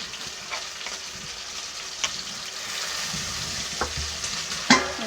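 Fried pieces stirred together with tomato and green chilli in a hot pan, a steady sizzle with soft scraping strokes and a sharper clatter near the end, no voices.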